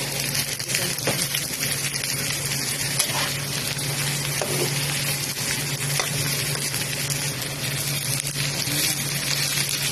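Fried tofu and onion sautéing in a pan, a steady dense sizzle and crackle that runs without a break, with a few faint stirring clinks and no talk.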